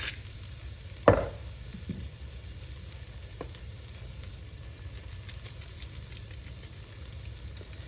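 Garlic, ginger and green onion frying in oil for a mushroom ramen, a soft steady sizzle throughout with one sharp utensil clack near the start and a few faint taps.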